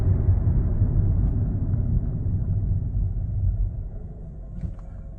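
A Mazda 3 drives at speed and slows down after a throttle body cleaning and idle relearn, heard from inside as a steady low rumble of engine and road noise that eases slightly toward the end.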